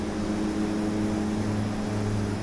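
Twin turboprop engines of a DHC-6-300 Twin Otter in the flight simulator FSX, powering up as one loud, steady droning hum with a constant propeller tone throughout.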